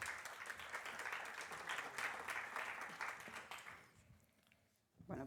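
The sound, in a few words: audience applause for a speaker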